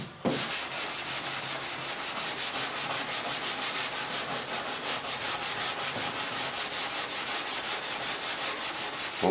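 Continuous close, loud hand sanding of a panel, with steady rhythmic strokes rasping back and forth throughout and no talk.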